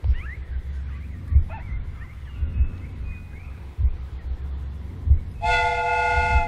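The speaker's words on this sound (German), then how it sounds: "Watson, I do believe that we have created an exact replica of the train that vanished in front of us last night." Steam train replica in a Sherlock Holmes video game: low rhythmic chugging puffs throughout, then a loud sustained multi-tone whistle blows near the end.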